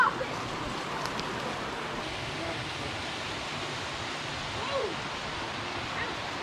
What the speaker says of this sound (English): And what a waterfall.